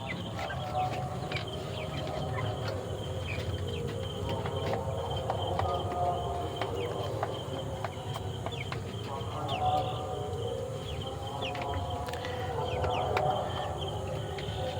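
Chickens about two months old inside a poultry farm, many birds clucking and chattering in a continuous busy chorus, with a faint crow and some background movement throughout.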